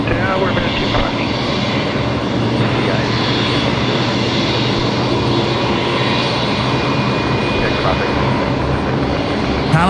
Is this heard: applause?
no